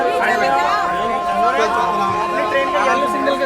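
Dense crowd chatter fills a packed general-class carriage of the Uttar Sampark Kranti 12445 train, many overlapping voices forming a loud, continuous babble close around.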